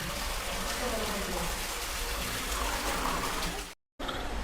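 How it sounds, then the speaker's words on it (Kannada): Steady, continuous rush of water pouring and splashing from a fountain sculpture at the Shivaram Karanth theme park in Kota, fairly close and even throughout, briefly cutting out near the end. "ಅದರಿಂದಲೇ ಒಂದು ನೀರು ಸುರಿತಾ ಉಂಟು"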